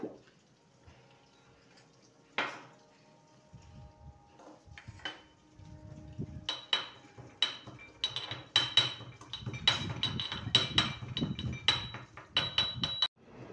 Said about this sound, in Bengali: রসুনটাকে থেতো করে নেব।